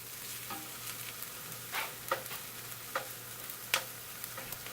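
Vegetables including broccoli and corn sizzle in a frying pan for a broccoli cheddar frittata, a constant soft frying hiss broken by several scraping stirs, with no voices.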